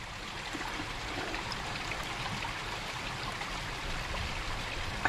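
Continuous gentle rush and trickle of a stream at a Cheviots wild camp as a cup is filled from it, steady and close with no voices.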